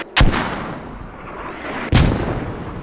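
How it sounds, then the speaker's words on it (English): Two heavy mortar impacts boom in the tactical shooter Squad, each a sharp blast followed by a long rumbling decay, spaced about two seconds apart with no voices. "we're being mortared to death."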